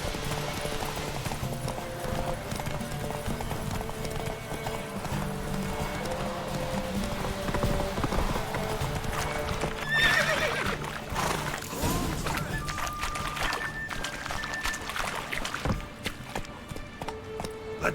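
Roach the horse galloping in The Witcher 3, rapid rhythmic hoofbeats over a game soundscape with a brief whinny, steady throughout and loudest near the middle.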